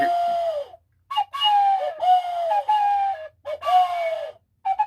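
A series of whistled bird-call imitations, sliding downward in pitch, repeated in short bursts with brief pauses between.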